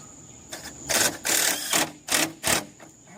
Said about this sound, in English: put 3 extra screws in it just to make sure